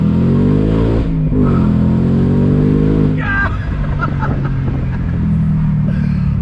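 A 2021 Shelby GT Speedster Mustang convertible accelerating hard on throttle, its V8 rising in a loud, close roar. The engine drops back after a gear change and then pulls again.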